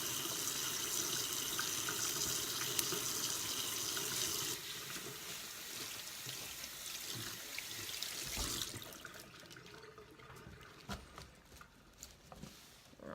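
Asparagus is washed under a running tap, with a steady rush of water for several seconds, then a quieter trickle broken by scattered drips and handling sounds, all fairly soft.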